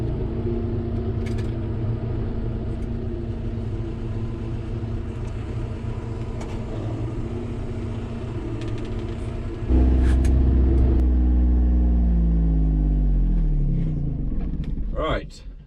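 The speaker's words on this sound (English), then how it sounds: "So I'm just out driving around. I'm in the Gator" Gator utility vehicle driving around a wet farm yard, a steady low engine rumble that jumps louder and deeper about two-thirds through, then fades with a brief clatter at the end.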